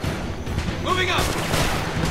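Heavy gunfire in the video game Homefront, loud close bursts of shots and booms layered with battle noise, with a shouted voice over the shooting.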